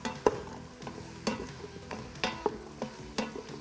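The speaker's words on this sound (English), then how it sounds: "So once our potatoes are in, I'm just going to stir it around a little bit." Potatoes are stirred in an Instant Pot, with a spoon scraping and knocking against the pot in repeated strokes about once a second over a soft background sizzle, close and fairly quiet.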